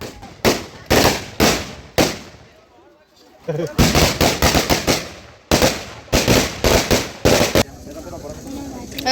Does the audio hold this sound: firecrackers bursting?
yes